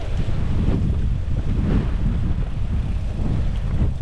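Steady wind buffets the microphone on an e-bike trail ride near Eugi, a constant low roar with no breaks and no voices.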